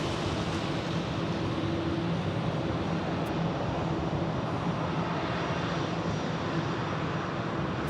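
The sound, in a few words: Hawaiian Airlines airliner at Phoenix Sky Harbor Airport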